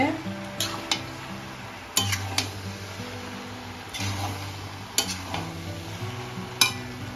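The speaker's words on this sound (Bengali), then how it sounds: "এখন নেড়ে নেব" A vegetable pachan with pointed gourd, left covered to soften, is stirred in a pan: a soft background sizzle with sharp spatula knocks and scrapes every second or two, close and without speech.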